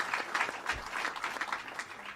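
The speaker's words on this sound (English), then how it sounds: "a round of applause." An audience at a political announcement event on Long Island gives a round of applause, a brief, fairly faint patter of clapping heard from a distance throughout.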